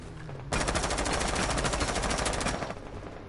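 Rapid automatic gunfire from the video game Rainbow Six Siege, a loud, close, continuous burst lasting about two seconds as a player tests weapon recoil, with no talk over it.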